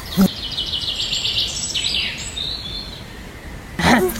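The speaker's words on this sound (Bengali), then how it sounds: "অনেকগুলা পাখি ডাকাডাকি করছে, দেখছিস কতগুলা পাখি?" Several birds call and chirp in a forest, with bright twittering calls running through most of the stretch and a couple of sharper, louder calls near the start and end, fairly close.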